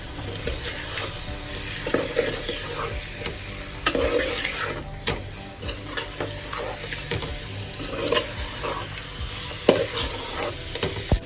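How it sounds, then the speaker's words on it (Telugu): Marinated chicken frying in a pan with tomato, onion and chilli while being stirred, close sizzling under repeated scraping and clinking strokes of a spoon against the pan, with no talking. "చికెన్ వేస్తున్నాం ఇప్పుడు బాగా కలిపేసుకుందాం"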